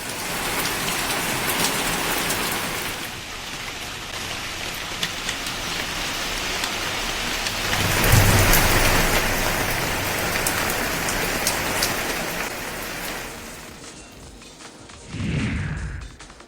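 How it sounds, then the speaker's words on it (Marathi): Heavy rain pours steadily at the foothills of the Satpura range, a dense, continuous roar of drops on surfaces that swells midway and fades briefly near the end. "सातपुडा पर्वताच्या पायथ्याशी पावसानं आज जोरदार हजेरी लावली"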